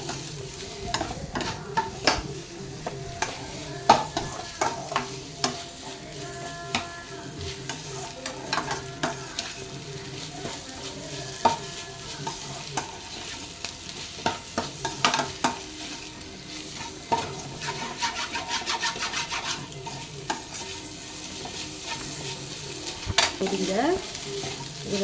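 Prawn puttu stir-fried in a pan: a quiet, continuous sizzle broken by repeated scraping and clicking strokes of a spatula, no voices.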